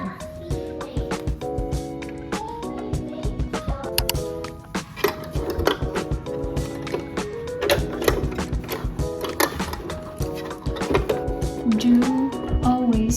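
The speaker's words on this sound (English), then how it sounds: "We will sew a line" A sewing machine stitches a quilted crossbody phone bag with a steady, fast mechanical whirring hum, pausing and restarting between runs, close by with some room noise.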